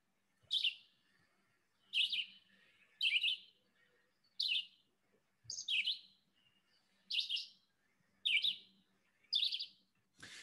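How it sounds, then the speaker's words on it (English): Red-eyed vireo singing a steady series of short, bright phrases, about eight separate bursts spaced a second or so apart, clear and fairly close against quiet surroundings. "you have a red-eyed vireo, and I always kind of describe this one as having way too much coffee, doesn't lack confidence, and it just sings incessantly"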